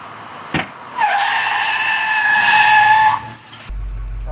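A truck in a panic stop on a straight road, its left rear wheel locking up and skidding with a loud, sustained tonal tire squeal lasting about two seconds, preceded by a brief thump and fading at the end.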